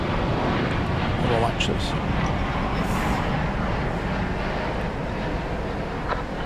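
A plane at DFW Airport at night gives a steady, loud, broadband engine roar that fills the whole stretch, and a person speaks briefly over it.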